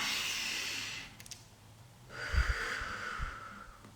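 Slow, calming breaths demonstrated for anxiety management: a long airy exhale, a pause, then a deeper inhale with soft snorting nasal puffs, close and unhurried.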